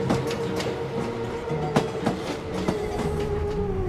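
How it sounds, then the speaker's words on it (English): An Enoden electric train in Japan rolls along steadily with rhythmic clickety-clack of wheels over rail joints and a constant motor whine, close by. "My personal favorite train we took was the Enoden."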